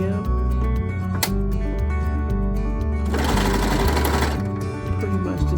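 A sewing machine stitches a blouse made from a sheet, running in a fast steady mechanical whir that changes speed in short bursts, with a louder, busier stretch midway.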